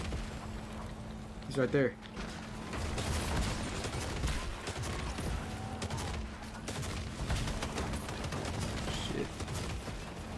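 Gunfire in the Fortnite Lethal Company mode video game: steady, close crackling bursts of shots run throughout, with a couple of sharper peaks, under excited players' voices.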